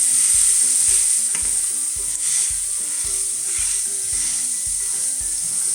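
An omelette with emmental cheese fries in a pan, a steady loud sizzle and crackle with hiss running throughout, punctuated by regular low thumps of stirring or pressing, with no voices.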